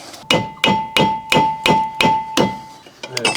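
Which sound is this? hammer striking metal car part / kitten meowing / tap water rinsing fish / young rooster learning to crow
hammer striking metal car part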